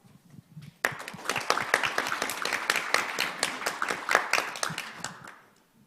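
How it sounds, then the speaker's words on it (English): An audience at the Asia Sustainable Finance Forum 2022 breaks into applause welcoming a speaker, a sudden burst of dense clapping that holds steady for several seconds and then tapers off. "please welcome her on screen with a big round of applause"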